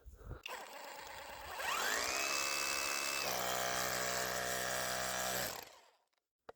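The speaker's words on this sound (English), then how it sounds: "And I will be using this hammer drill. So basically, just take this, put it on hammer mode" A hammer drill set to hammer mode breaks out the inside of a catalytic converter from an Audi A4 1.9 TDI; the motor spins up with a rising whine and then holds a loud, steady buzzing drone for several seconds before cutting off.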